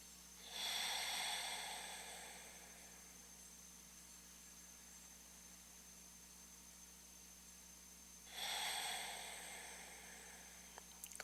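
Two long, deep breaths during a yoga session, each a soft breathy inhale rising then slowly fading out, with a long quiet pause between; close and gentle, no talking.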